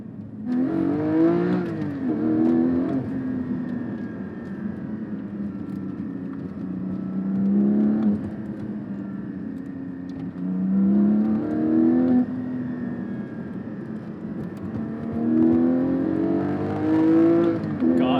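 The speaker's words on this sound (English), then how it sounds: "This exhaust plus the valve was definitely the right call to make. Such a visceral sound to it." A Porsche 718 Cayman GT4 with a valved exhaust accelerates hard in repeated runs, engine note rising through the revs, then dropping at each gear change, loud and heard from inside the car.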